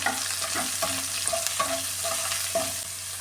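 Carrot, beans and green chilli frying with softened onion in a pan for broken-wheat upma, with a steady close sizzle broken by repeated scraping stir strokes at a loose, even rhythm.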